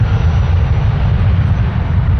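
Airliner taking off at Toronto Pearson airport, a loud, steady low jet engine roar filling the whole moment.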